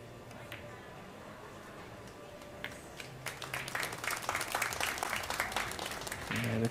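A crowd at a women's pool match breaks into applause partway through, the clapping swelling into a dense, sustained patter after a quieter start with faint murmurs.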